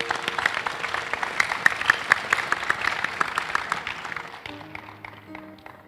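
A church congregation clapping together, a fairly close burst of applause that gradually thins and fades out over a few seconds, with faint background voices.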